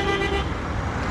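Car traffic moving around the Tetteh Quarshi roundabout in Accra, a steady roadway rumble with a short horn toot at the start, heard from nearby.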